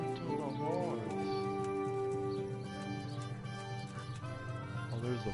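A horse whinnies over a backdrop of steady music in the video game Kingdom Come: Deliverance, with a second, shorter neigh near the end.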